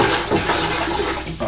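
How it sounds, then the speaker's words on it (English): Water swirls and sloshes steadily as a hydroponic nutrient mix is stirred in a container, a continuous close splashing wash with a few stronger surges. "So now that our water is sufficiently stirred"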